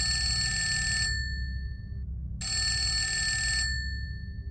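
An old-style bell telephone ringing loudly inside a phone booth, two long metallic rings separated by a short pause, over a low background hum.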